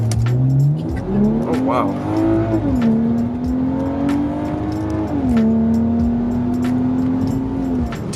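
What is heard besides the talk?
BMW 335i N55 car accelerating hard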